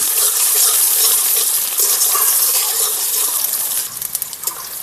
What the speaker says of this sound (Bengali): এবারে আমি এর মধ্যে দিয়ে দেবো পেঁয়াজ কুচি।